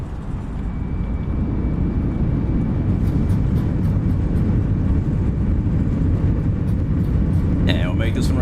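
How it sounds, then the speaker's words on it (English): An A320 deploys its thrust reversers on landing in Microsoft Flight Simulator, producing a loud, continuous engine roar that swells and holds, with a short high-pitched tone near the end. "There's the reversers."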